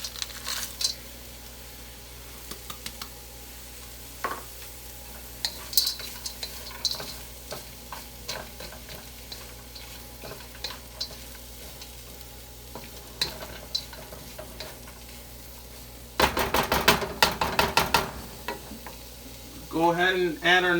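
Frozen peas get stirred into garlic frying in a pan for fried rice, with a soft sizzle under scattered utensil scrapes and clicks. A burst of louder clattering comes near the end.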